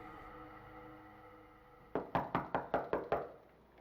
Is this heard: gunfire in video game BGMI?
no